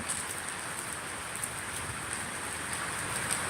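Night rain falls steadily in Chennai during the northeast monsoon, an even hiss of drops spread across surfaces, close and continuous with no voices.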